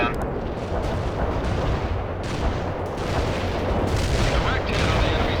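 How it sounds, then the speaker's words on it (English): Heavy artillery barrage in the video game World in Conflict rumbles as a dense, continuous roll of deep booms and blasts, loud and close, with no clear gaps between impacts. "Heavy artillery barrage inbound."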